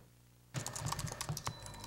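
Typing on a computer keyboard starts abruptly after a quiet moment, a quick uneven run of close, crisp key clicks and thuds.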